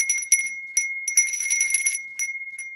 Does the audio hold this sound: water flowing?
no